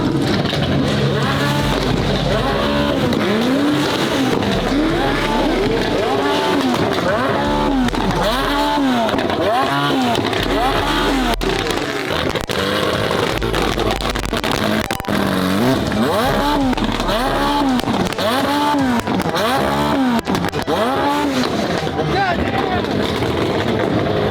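Lamborghini SVJ pulling away with repeated rising and falling engine revs as it works through gears, loud and close amid a noisy crowd, with voices talking over it.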